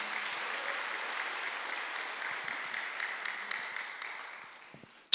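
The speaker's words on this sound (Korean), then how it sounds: "박수를 하나 더 해주세요" Congregation applause during a Korean church Sunday worship service: steady, dense clapping from a crowd that thins and fades out over about four and a half seconds before a brief sharp noise at the end.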